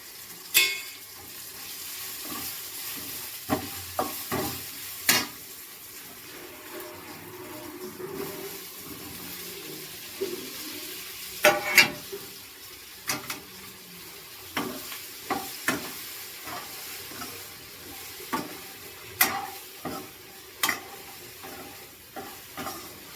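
Cabbage frying in oil without water in a home kitchen, a steady soft sizzle with frequent sharp clinks and scrapes of stirring throughout, close by.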